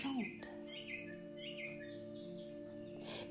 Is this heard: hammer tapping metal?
no